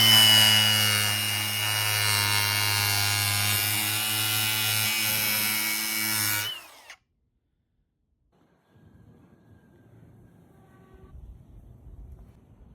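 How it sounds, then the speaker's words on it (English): Angle grinder trimming a carbon fiber car front lip, a loud, steady high-pitched whine with a harsh cutting edge that runs continuously for several seconds, then winds down and stops, leaving faint rustling. "I'm gonna trim it first with my angle grinder"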